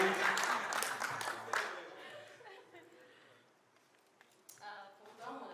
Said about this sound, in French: Acclamons, mesdames et messieurs.